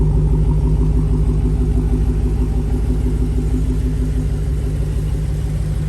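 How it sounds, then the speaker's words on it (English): A Dodge Challenger Hellcat's stock exhaust rumbles at a steady idle, a deep, continuous throb that stays loud and close throughout. "I love the stock exhaust on these Hellcats"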